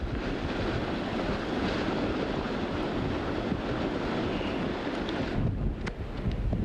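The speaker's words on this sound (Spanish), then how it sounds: "el viento siguió con su jugarreta, desprendió la carta de la bomba" Wind gusts outdoors in a steady roaring rush that buffets the microphone, with no voices heard.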